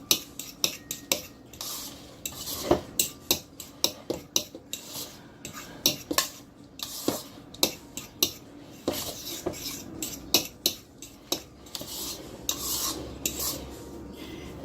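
A utensil scraping and clinking in a bowl while cauliflower pizza ingredients are mixed, steady rhythmic scrapes and taps repeated close up with no talking.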